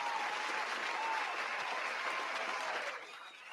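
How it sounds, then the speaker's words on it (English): Applause from a sports show audience, a steady wash of many clapping hands that continues throughout and dips slightly near the end. "Round of applause."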